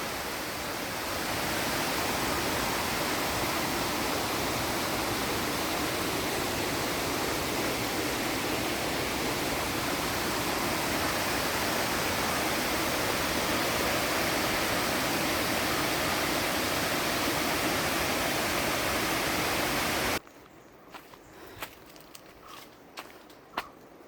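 A stream flows along the edge of a rural plot, a loud, steady rushing wash that runs unbroken for about twenty seconds before it cuts off, leaving a quiet backdrop with a few faint clicks.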